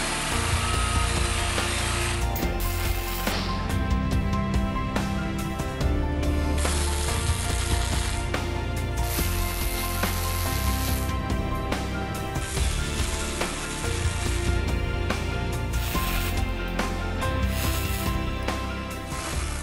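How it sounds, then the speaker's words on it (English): Flux-core wire MIG welding on steel bar stock for a clamp, giving a steady, loud crackling sizzle with dense spatter that runs continuously with small pulses and brief breaks between passes. "Flux core wire actually makes a stronger weld than a gas shielded MIG wire will."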